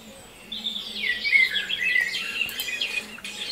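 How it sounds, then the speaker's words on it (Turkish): Birds chirping and tweeting in a quick, busy chorus, fairly close, rising after a brief quiet start and continuing steadily. "Kuş sesini duyalım rahat rahat."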